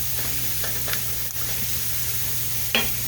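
Vegetables sautéing with garlic in a pan for a meatball tomato sauce, a steady close sizzle with a few light stirring scrapes and clinks breaking through.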